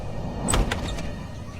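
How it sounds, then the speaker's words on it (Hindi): A door opening in a Hindi animated cartoon, heard as a brief sliding, creaking rattle with a couple of quick clicks, fairly close and alone. "चेतना जाकर दरवाजा खोलती है"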